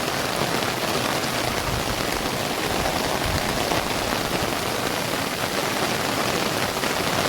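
Heavy monsoon downpour in the Konkan region, a steady dense roar of rain pounding surfaces, loud and unbroken throughout with no voices.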